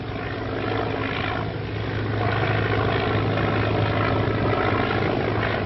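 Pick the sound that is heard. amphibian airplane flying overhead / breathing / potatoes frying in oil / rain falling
amphibian airplane flying overhead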